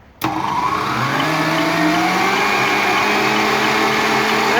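A Kenwood Chef A701 stand mixer switches on abruptly and runs loud and steady, its motor whine rising in pitch as it spins up and then holding a constant drone.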